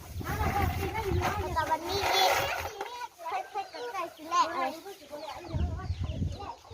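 Newborn chicks and hens in a rural farm nursery pen, with frequent high chirps and clucks mixed among children's voices and adult talk throughout.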